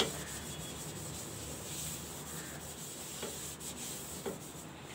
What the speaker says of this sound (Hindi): इस पर हम एक चम्मच तेल डालेंगे और इसे टिश्यू पेपर से अच्छे से ग्रीस कर लेंगे